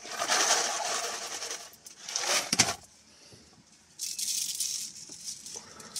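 Coffee beans are ground by hand, giving quiet, gritty rattling in uneven bursts separated by short pauses.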